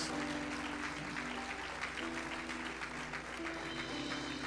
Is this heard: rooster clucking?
no